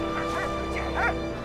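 A dog in the video game Valiant Hearts gives short yips and whimpering barks over a steady musical drone, two or three quick calls close by.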